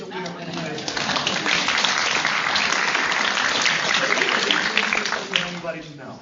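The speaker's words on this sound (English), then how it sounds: "An applause to the only person we have." Audience at a medical grand rounds lecture breaks into steady applause, a dense, even wash of many hands clapping throughout, with a voice talking faintly underneath.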